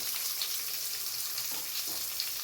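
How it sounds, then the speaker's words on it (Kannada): Chana dal, curry leaves and onion frying in a pan for a South Indian pumpkin palya give a steady, close, hissing sizzle, with a couple of soft stirring scrapes partway through. "ಕಡಲೆಬೇಳೆ, ಕರಿಬೇವು ಹಾಕ್ಕೊತಾ ಇದ್ದೀನಿ, ಈರುಳ್ಳಿ ಹಾಕ್ಕೊತಾ ಇದ್ದೀನಿ."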